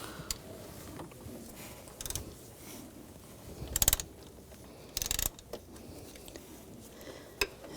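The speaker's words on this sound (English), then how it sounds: "Now take the two bolts out. Holding the tensioner, use a 13mm socket." Ratchet wrench with a 13mm socket loosening the tensioner bolts on a 2000-2006 BMW X5 3.0L inline-six, quiet mechanical clicking bursts near 2, 4 and 5 seconds over a low room hum.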